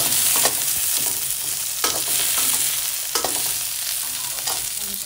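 Shallots stir-fry in a little oil in a pan for nam prik pla ra, a loud steady sizzle broken by repeated scraping stirs of the spatula.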